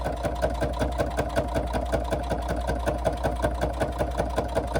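A sewing machine stitches along the fold of a handbag, a fast, even rattle of needle strokes over a steady motor hum, close and continuous with no talk.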